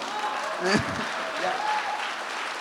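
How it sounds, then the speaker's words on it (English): Audience at a talk show-style interview event applauding in a short burst, with a host's voice speaking over the clapping. "Bigger round of applause."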